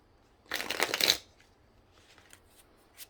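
Tarot cards being shuffled up close in a quiet room, one dense riffling burst lasting about half a second, followed by faint scattered card ticks.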